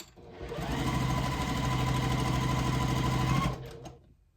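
A sewing machine runs in one steady, continuous burst of rapid stitching, piecing together scraps of quilt block for a big scrappy stash-buster quilt. It is close and fairly loud, with no talk over it.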